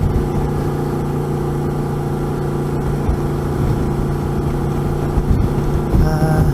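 Yamaha motorcycle engine running steadily while riding, a constant mid-pitched drone with slight fluctuations and a brief shift near the end.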